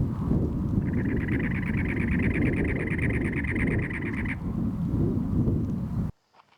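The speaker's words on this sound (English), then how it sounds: "Cactus wren is the quintessential desert bird." A cactus wren's rapid, rasping chatter repeats steadily for several seconds over heavy low rumbling wind noise in the desert, then cuts off.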